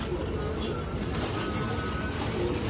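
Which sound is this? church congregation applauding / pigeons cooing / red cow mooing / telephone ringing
pigeons cooing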